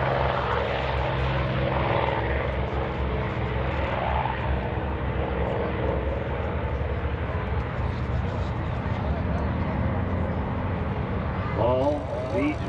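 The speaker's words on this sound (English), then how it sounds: "P-51D Mustang." A P-51D Mustang's V12 liquid-cooled propeller engine roars loudly and steadily as the plane passes, a thick continuous drone that fills the whole stretch.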